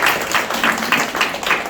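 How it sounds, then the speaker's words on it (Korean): Audience at a prayer-training school lecture clapping, a short, close spell of scattered applause with several rhythmic bursts that taper off at the end. "박수 한번 주시겠습니까?"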